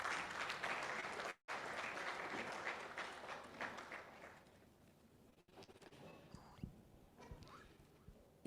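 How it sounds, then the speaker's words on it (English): Audience applause for the President at a national seminar on banking and allied matters for judges, a dense clapping crowd that briefly cuts out, then thins and fades into scattered claps. "Please, another applause for the President."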